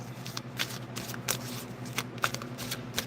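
A deck of tarot cards is shuffled for a reading, with a continuous close, papery riffling and flicking that comes in quick repeated bursts over a faint low hum, with no talking.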